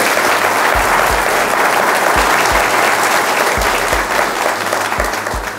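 An audience at a televised leadership debate breaks into dense, sustained applause, loud and close, with many hands clapping at once and a faint low thumping underneath throughout.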